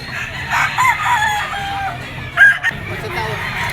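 A white Kelso rooster of a Firebird GF gamefowl line crows loudly and close by, its drawn-out call rising and falling, with a second brief crow and clucks near the end over faint background noise.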